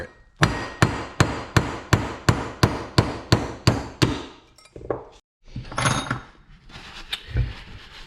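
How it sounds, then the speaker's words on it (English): Steady metallic hammer blows drive valve guides out of a damaged Yamaha YFZ450 cylinder head, about ten sharp, ringing strikes in an even rhythm, close up, followed by a pause and some clinking and handling of parts. "You just put it in the hole here and you just hammer it."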